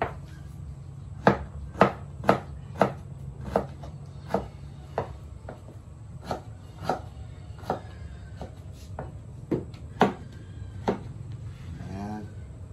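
An onion being chopped on a cutting board, a quick run of sharp knife strikes that then slows to irregular single cuts, close and distinct over a low background murmur.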